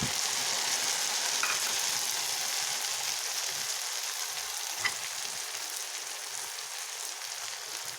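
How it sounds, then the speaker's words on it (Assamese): Puréed tomatoes for egg masala fry in a pan with a steady, even sizzle and bubbling hiss, continuous and close, with a couple of faint clicks and no voices. "বিলাহীখিনি ভালদৰে সিজালৈকে আমি এনেদৰে ইয়াক সিজাই ল'ম।"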